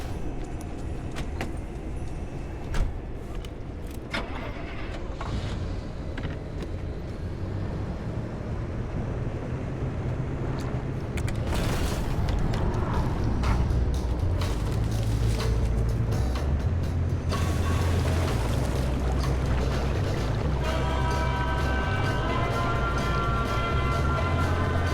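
Car engine in the Pacific Drive video game rumbling steadily at low pitch, getting louder and heavier about halfway through, with wind and road noise washing over it and no talk.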